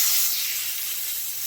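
A steak sizzles loudly in a hot, smoking cast iron skillet, a steady bright hiss close up that runs unbroken from start to finish without any talking.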